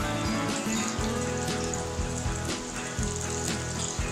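Mustard seeds crackling in hot oil in a pan with ginger and red or green chili: a steady fizzing sizzle with scattered small pops, close and fairly quiet, with no talk.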